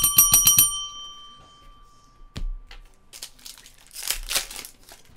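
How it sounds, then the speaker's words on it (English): A small gold push-button bell rings four quick bright dings right up close, leaving a ringing tone that fades, followed by crinkling and rustling of wrappers. "I only had a little push button gold bell."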